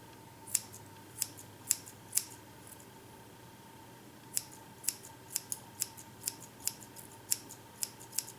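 Scissors snipping hair to shape side-swept bangs: a series of crisp, close metallic snips, a few spaced slowly, then a faster, more regular run of cuts over a quiet room hum, with no talking.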